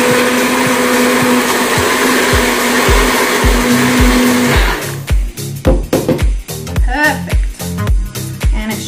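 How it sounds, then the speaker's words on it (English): A kitchen blender whirs steadily through a cashew cream sauce, loud and close, then cuts off into a series of sharp knocks and clatters as the jar is handled. "Just gonna give this another little blend just to mix it in."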